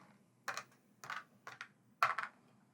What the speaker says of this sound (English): We then take all the dice on the board, shuffle them up, and deposit them.